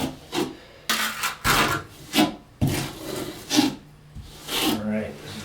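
Steel trowel spreading thinset mortar across a shower wall, in rhythmic rasping scrapes that come in short bursts about every half second to a second, close and fairly loud.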